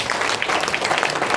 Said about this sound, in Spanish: denle un aplauso fuerte a papá Dios